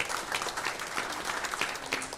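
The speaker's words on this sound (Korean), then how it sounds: "박수로 환영하겠습니다." A church congregation at a Sunday service claps in welcome, steady soft applause from a room full of people, heard at a modest distance with no talking over it.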